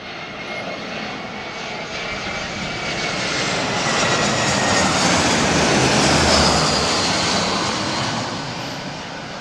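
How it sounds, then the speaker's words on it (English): An Air India airliner lands in gusty crosswinds of around 34 mph, its loud engine roar swelling to a peak and then easing off, with no voices over it. "when the aircraft arrives, like it is now"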